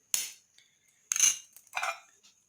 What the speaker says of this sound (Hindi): अब प्याज के रस में ऑनियन के रस को ऐसे मिक्स करें